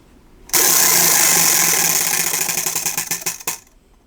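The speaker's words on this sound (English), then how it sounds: "Let's spin and get a different prompt" A spinner wheel whirring loudly and close, its dense rush turning into rapid clicks that space out as it slows to a halt after about three seconds.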